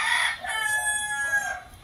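A backyard chicken crows in a strong, drawn-out call and clucks faintly around it. The bird is close and loud, and no one speaks.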